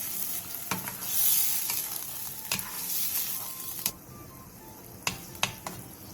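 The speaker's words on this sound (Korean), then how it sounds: "물 1컵 반과 진간장 반컵, 물엿 3분의 1컵을 넣고 센 불에서 끓여주세요" Water, soy sauce and corn syrup with garlic boil in a pot on high heat, giving a steady close hiss of bubbling broken by scattered sharp clicks and light clatter.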